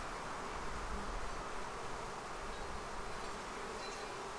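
Honey bees buzzing around an open hive, a dense continuous swarm hum, faint and steady with no voices.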